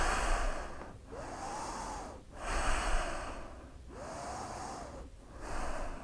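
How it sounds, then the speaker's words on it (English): Slow, deep breaths during a yoga side bend, three long airy inhale-exhale cycles with brief pauses between, close and fairly loud, with no talking. "3 more breaths."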